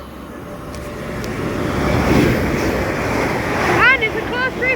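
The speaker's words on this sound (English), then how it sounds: "it's a class 350 at speed" A British Rail Class 350 electric train passes at speed, a broad rushing roar that swells to a peak and then recedes, with wind buffeting the microphone throughout.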